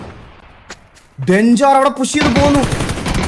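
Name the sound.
sniper and gunfire in the video game PUBG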